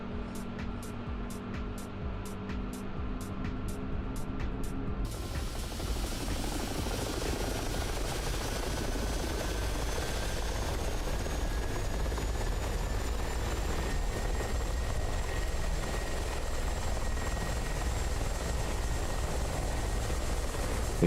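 Twin helicopter engines in the DCS World flight simulator spooling up in RPM, a loud, steady turbine whine and rotor roar. Its pitch rises gradually and holds, with no speech.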